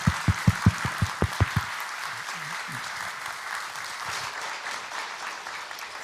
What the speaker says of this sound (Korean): 다시 한번 목사님 박수로 환영합시다